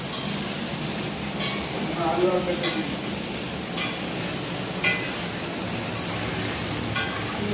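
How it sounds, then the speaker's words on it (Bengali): Potatoes and papaya fry in a pan with a steady broadband sizzle, punctuated by a few soft stirring scrapes and clinks, close and moderately loud, with faint indistinct talk in the background. "আলু পেঁপে ভাজা হচ্ছে"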